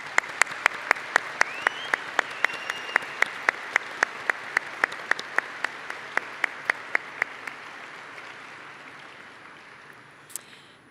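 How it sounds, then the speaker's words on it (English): Applause at a university computer science diploma ceremony honoring event staff, with a broad wash of clapping under a run of sharp, evenly spaced loud claps or knocks that fade out, leaving quiet room tone and one late click. "Let's give them a well-deserved round of applause."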